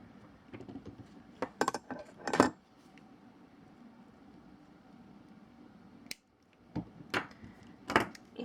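Small wire cutters snip wrapped earring wire with a few sharp metallic clicks, a cluster early and another pair near the end, separated by quiet handling.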